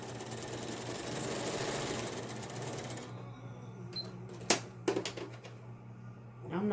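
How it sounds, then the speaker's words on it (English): A sewing machine stitches a fabric communicator mask in a fast, steady mechanical whir for about three seconds, then stops, followed by a few short clicks and handling knocks, close and fairly quiet. "And I'm going to finish sewing this."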